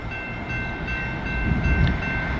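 A CSX freight train rolls past near a river crossing with a steady low rumble that swells louder toward the end, and a faint high horn tone sits underneath.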